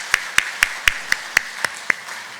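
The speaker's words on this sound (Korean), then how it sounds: "하나님께 박수로 영광 돌리겠습니다." Claps ring out in a church service, a slow, regular series of about eight sharp, separate hand claps, evenly spaced and fairly close, over a faint background.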